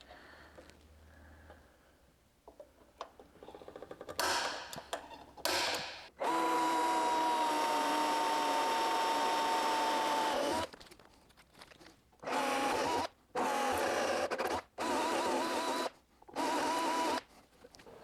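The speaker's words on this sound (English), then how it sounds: "So now that our holes are drilled here" Power drill boring holes for a dash mount on a junior dragster, quiet handling sounds followed by a long steady whine, then several short drill bursts separated by brief pauses.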